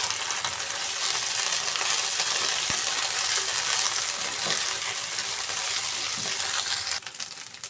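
Ground spices, garlic and turmeric fry in a pan with a dense, continuous sizzle and crackle, close and steady for several seconds, with a faint clink near the middle and a slight drop at the end.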